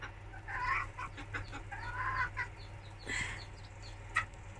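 Brooding hen with newly hatched chicks clucking softly in short bursts close by, low irregular calls with a faint steady hum underneath.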